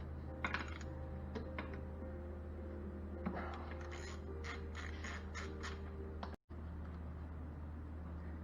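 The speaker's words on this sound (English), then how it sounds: "I'm going to use a 14mm socket. Loosen these 4 bolts" A 14mm socket works loose the bolts on a Yamaha 650 V Star motorcycle's final drive, giving quiet metallic clicks and short ratcheting bursts over a faint low hum, with no speech.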